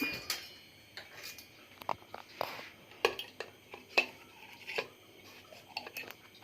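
Metal clinks and taps as a pressure cooker's whistle and lid are worked loose with a spoon in a home kitchen, a scattered series of sharp, close, fairly quiet knocks without talk.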